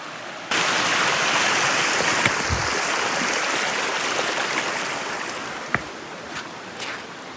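A low river flows over rocks at a solo campsite, making a steady, close rushing wash of water that runs unbroken throughout, with a couple of faint clicks on top.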